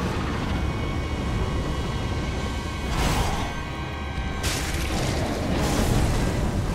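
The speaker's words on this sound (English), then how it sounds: "Wait, they both can breathe fire?" A boss breathes fire in Dark Souls Remastered, a loud, dense roaring blast with two surging whooshes layered over a constant heavy rumble, close and overwhelming.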